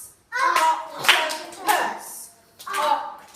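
Children clap their hands in a nursery phonics lesson, with three distinct bursts of claps spaced out evenly and mixed with children's voices.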